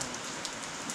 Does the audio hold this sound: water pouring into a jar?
no